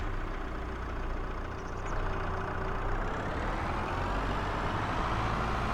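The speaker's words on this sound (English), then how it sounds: "And we got to bring the skid steer back." Skid steer in Farming Simulator 22 driving along with a steady, droning mid-pitched engine hum that holds at an even level throughout, with no voices.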